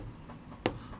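Chalk or marker scratching across a board in a classroom, a few soft strokes followed by one sharp tap, close and brief, with no talking.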